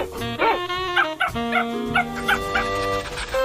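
A dog in an animated cartoon barks and whimpers in a string of short, tonal, high-pitched yelps and whines, close and fairly loud, with a few pauses between them.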